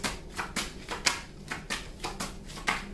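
Tarot cards are shuffled and drawn from the deck, a string of close, crisp riffling slaps and flicks in an uneven rhythm, quiet and alone.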